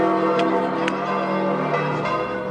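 Church bells ring out over St. Peter's Square in Vatican City after white smoke rises, with a loud, sustained metallic peal whose overlapping strikes blend into a continuous resonant wash.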